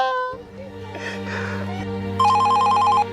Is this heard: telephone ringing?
yes